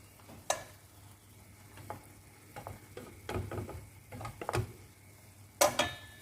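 Zucchini stir-fried with egg and egg tofu in a pan, a faint continuous sizzle under scattered utensil scrapes and clacks against the pan, with a couple of sharper knocks.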